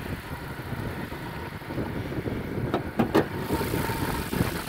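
A 2015 Honda CR-V EX AWD with a 2.4-liter four-cylinder engine idles in a steady, even low hum, with a couple of brief sharp clicks near the end and no voices.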